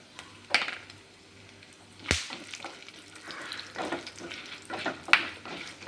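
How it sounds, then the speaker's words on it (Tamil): Cumin seeds and black pepper sizzle in hot oil in a pan while cooking a traditional Tamil breakfast, a soft crackling fry broken by sharp pops and the scrape of stirring, with no talking. "சீரகம், மிளகு பொரியட்டும்."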